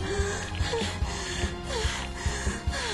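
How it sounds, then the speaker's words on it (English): Heavy, intense breathing from a Professor Layton vs Phoenix Wright: Ace Attorney game scene, rasping wheezy breaths in a steady rhythm over a background music bed. "Intense breathing!"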